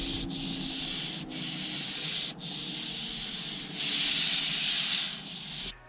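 A hand rubs the soft yet slightly rough leather steering wheel of a third-generation Genesis G80 up close. It gives a continuous scratchy, hissing friction sound in long strokes, broken by a few brief pauses.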